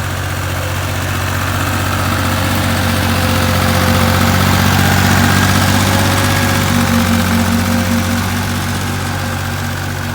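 A Dongfeng 254 tractor drags a single-furrow plough through a field being turned for cabbage, its engine a loud, steady, close droning rumble that holds without a break for the whole stretch, with no voices.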